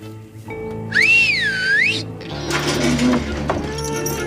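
A man whistles loudly, a shrill rising-and-falling swoop lasting about a second, set against an indoor room hum, followed by a burst of broadband noise and murmuring.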